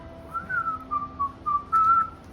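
A person whistles a short, wavering melodic phrase alone, fairly close, with a faint steady hum in the background.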